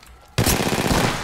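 Rapid automatic gunfire in Apex Legends, a loud close burst of tightly spaced shots that bursts in suddenly after a quiet start and rattles on without a break.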